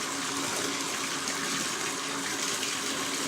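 A blue and white bath bomb is held under bath water and fizzes, giving a steady, soft rushing hiss of bubbles with no pauses and no talking.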